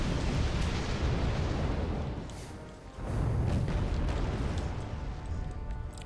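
Heavy bomb blasts in the wartime strategy game Wargame: Red Dragon, loud rumbling booms that fill the first two seconds, dip briefly, then surge again into a sustained, dense roar of explosions to the end.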